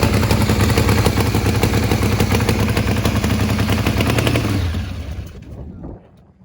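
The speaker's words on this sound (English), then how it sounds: "Something does not sound quite right on that motorcycle though." A nitro drag racing motorcycle engine runs rough at close range, a loud, dense staccato rattle of uneven firing pulses that holds steady, then drops off sharply and cuts out near the end.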